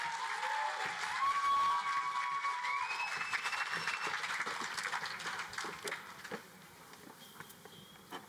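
Audience applause and clapping for the Ngā Manu Waiata choir, a dense spread of hand claps that starts strong and gradually thins out toward the end, with a faint tone ringing over it.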